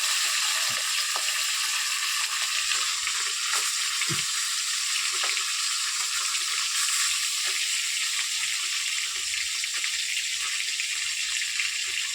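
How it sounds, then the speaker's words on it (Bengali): Fish frying in a pan during village cooking, a bright steady sizzle with occasional soft knocks and scrapes as the pieces are turned, with no talking. "সাইডে ভাজা হয়ে গেছে, আর সাইডে ঘুরে দিচ্ছি"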